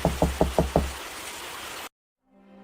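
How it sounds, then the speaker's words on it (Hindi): Five quick, evenly spaced knocks on a door ring out close and firm, followed by a lingering hushed backdrop that fits a cartoon story set in heavy rain, then sudden silence. "दरवाजा खटखटाता है"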